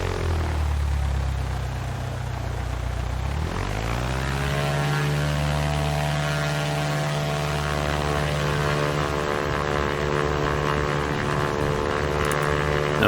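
Propeller engine of an ultralight aircraft in X-Plane 11, hovering over an aircraft carrier, drones steadily after a brief drop and rising pitch, a continuous tonal hum with no talk over it.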